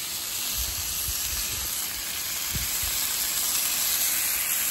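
Flank steak sizzling in a hot pan for carne asada, a constant dense frying hiss with a few low thumps, close and alone without talk.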